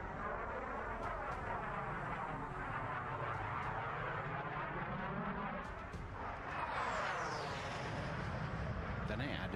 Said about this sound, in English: our team recorded jet sounds at the London Air Show a few years back